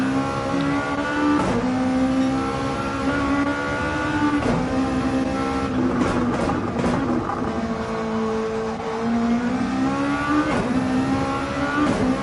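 A race car in a multi-class racing event, its engine droning loudly as it accelerates hard toward a corner, pitch climbing and dipping with gear changes and brief sharp bursts, with other engine noise underneath.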